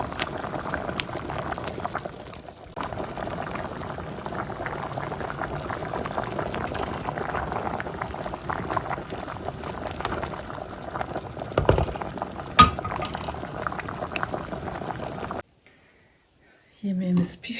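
A pot of Turkish karnıyarık stew boiling on a village stove, a continuous soft bubbling and simmer running for most of the stretch, with a quiet voice now and then, before it cuts out near the end.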